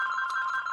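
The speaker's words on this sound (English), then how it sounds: "excuse me, that is the phone" A telephone rings briefly, a loud, bright electronic tone that holds steady for under a second, with no voices.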